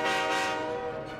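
A cartoon train gives one loud, sustained horn toot, a bright harmonic blast held for just over a second with no talking.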